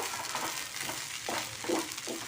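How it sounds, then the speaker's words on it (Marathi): Cooked amaranth (rajgira) is sautéed in a pan for sheera, with a soft steady sizzle and several scraping stirs of a spoon, close and fairly quiet, with no voices. "शिजलेला राजगिरा घालून घ्यायचा आहे हे आता आपल्याला परतून घ्यायचे आहे"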